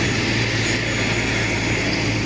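Steady, loud drone of a propeller airliner's engines near a Wings Air boarding area on a flight from Kupang to Ende, a constant hum with a high whine running alone throughout.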